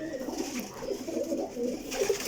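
Pigeons cooing softly at a breeder's loft in Jhelum, a low murmuring coo that carries on steadily without a break, faint and somewhat distant under a light background hiss.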